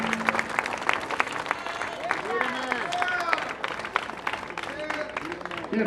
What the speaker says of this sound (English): How about a round of applause for this young man